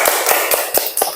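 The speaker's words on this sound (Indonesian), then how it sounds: "Tepuk tangan buat kelompok 1." A classroom group claps in a quick, steady rhythm of sharp, close taps, about five hits spaced evenly, with a bright, dry sound.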